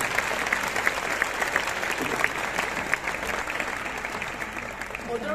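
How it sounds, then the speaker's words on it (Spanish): An audience applauses loudly at a town festival proclamation in Lerma, Spain. The clapping is strong and sustained with some crowd noise and faint voices mixed in. "Fuerte el aplauso para Andrea"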